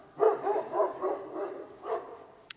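Farm dogs barking outdoors at a distance, several rough woofs in an uneven run followed by a later bark, moderately loud with no talking.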